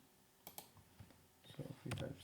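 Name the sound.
typing numbers on a computer keyboard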